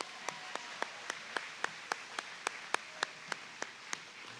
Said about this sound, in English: let's all give them a big round of applause